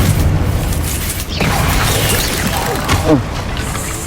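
Bombarda explosion spells cast in the video game Hogwarts Legacy, with loud booming blasts and crashing debris over dense game ambience, while a voice shouts spell names throughout.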